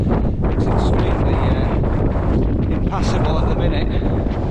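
Strong wind buffets the microphone in a steep mountain gully on a Munro route, a loud, continuous low rumble and roar with gusty surges throughout.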